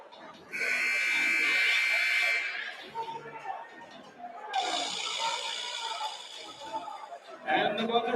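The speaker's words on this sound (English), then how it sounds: "And the buzzer sounds." Arena buzzer ending a period in a varsity high school basketball game, two long loud electronic blasts with a short gap between them, over crowd chatter and an announcer's voice.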